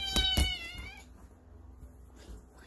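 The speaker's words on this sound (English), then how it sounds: "Look at this cat." A cat gives two or three short, close meows at the start, followed by quieter rustling and soft background noise.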